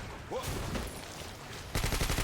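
Sustained loud gunfire in the video game BlackFire, a dense rattle of shots that turns into a sharper, rapid automatic burst near the end.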